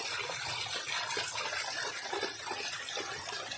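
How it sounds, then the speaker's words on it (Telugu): Water rushing over the top of a forest waterfall, a dense continuous gushing roar, close and steady without pause or voices. "చిన్న చిన్న ప్రవాహాలుగా సాగి ఒక పెద్ద వాటర్ ఫాల్లో వస్తాయండి. మనం వాటర్ ఫాల్ యొక్క టాప్లో ఉన్నాం ప్రజెంట్."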